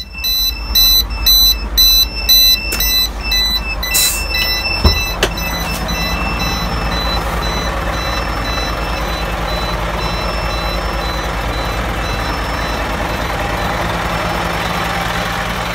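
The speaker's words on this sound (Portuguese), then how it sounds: "Esse alerta indica que a báscula está alta." A truck's high dump-body warning alarm sounds a loud, close series of repeated electronic beeps, then gives way to the steady rumble of the idling engine.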